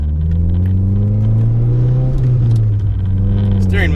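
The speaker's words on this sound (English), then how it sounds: "We don't need no music. The turbo is the music." A Toyota Celica All-Trac turbo heard from inside while driving: a loud, steady, deep engine drone with a low rumble that swells slightly midway, close and continuous.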